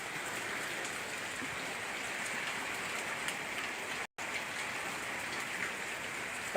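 Steady rain falls and patters on surfaces, a dense, even hiss that continues throughout with one brief dropout.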